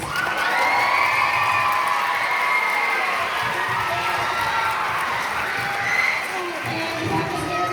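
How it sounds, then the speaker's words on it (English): An audience at an 8th grade school band concert claps and cheers for the student musicians, a sustained crowd roar with shouts and whoops layered over steady applause. "we'll give them a round of applause"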